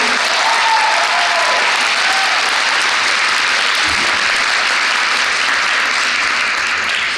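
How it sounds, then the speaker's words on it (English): Full, steady applause from a concert audience for a high school chorus and a cappella group, dense clapping sustained throughout at close range. "Let's give the Framingham High School Chorus and Acapella a round of applause."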